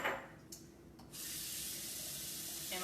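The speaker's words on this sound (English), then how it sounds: "So I'm gonna put some water in." Water pours into a mason jar as a soft, steady rush. It starts quietly, then swells into a continuous faint splashing stream that runs to the end.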